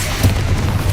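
A deep, booming spell blast from Bombarda or Confringo in Hogwarts Legacy, heavy in the low end and sustained through a short, dense rumble.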